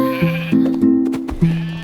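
Cartoon sheep bleat in a few short, wavering cries, loud and close, alone without talk or music.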